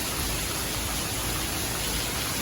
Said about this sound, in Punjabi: ਜਿਹੜਾ ਇੰਨਾ ਜ਼ਿਆਦਾ ਮੀਂਹ ਹੈ